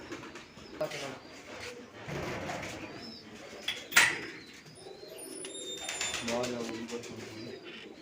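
Pigeons cooing softly nearby in a loft while medicine is given to them, with occasional chirps and a wing flutter; someone talks over the birds throughout.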